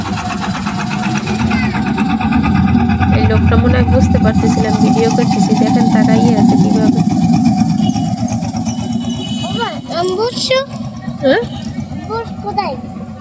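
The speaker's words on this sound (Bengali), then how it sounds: "একটা বালির ট্রলার না জাহাজ কি বলে, তাই চলে আসছে" A sand-carrying trawler boat motors along a narrow canal, its engine a loud, steady low drone that fills the scene throughout, with a person speaking over it and the drone easing near the end.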